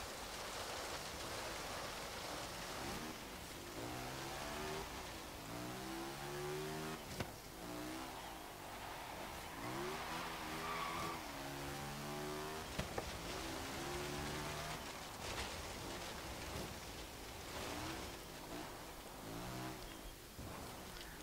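A 1957 BMW Isetta 300 Export's tiny engine drones and revs through repeated gear changes in Forza Horizon, a steady buzzing rise and fall under a constant hiss of road noise.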